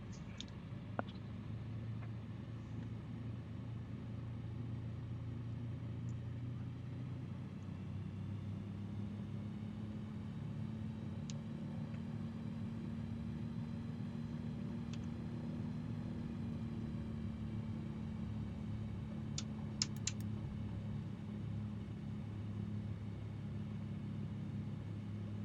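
A propeller aircraft engine runs at low power in Microsoft Flight Simulator 2020 at an Idaho backcountry airstrip, a steady low droning hum that holds evenly throughout with faint clicks here and there.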